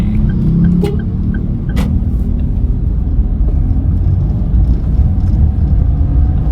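A manual car engine rumbles steadily with a low drone as it pulls away uphill after clutch release, holding an even, close drone with a couple of faint clicks early on and no talk.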